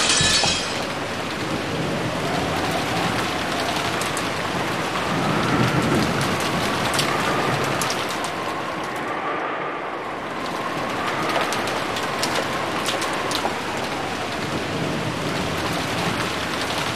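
Rain blows in during a storm in the video game Umineko, a steady loud downpour with gusting wind and low thunder rumbling underneath, close and continuous, with no voices.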